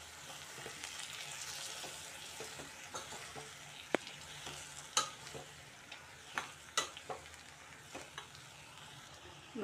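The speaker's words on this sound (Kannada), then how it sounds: "ಅದನ್ನು ಈಗ ಮಿಕ್ಸ್ ಮಾಡ್ತೀನಿ ರೀ" Horse gram stir-fry being mixed in a pan, a soft steady sizzle of frying under a string of light scraping and clinking strokes from the spoon, fairly quiet and close.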